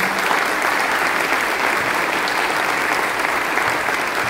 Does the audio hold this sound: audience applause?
yes